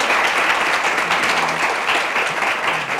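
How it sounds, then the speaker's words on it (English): An audience claps loudly and continuously in sustained applause for a panel of men introduced at a live talk show, dense and even throughout with no pauses. "Give them a round of applause"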